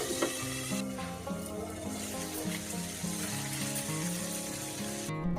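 Panch phoron, extra fennel and masala fry in hot oil, a steady moderate sizzle heard close by against a tonal background hum, with a few soft clicks and a sudden cutoff at the end.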